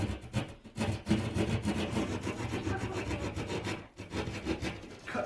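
Drywall being cut into on a bedroom ceiling to fit a recessed LED light, heard as a steady, close scraping and rasping rub with brief pauses, alone without talk.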